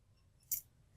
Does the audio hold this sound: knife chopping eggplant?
no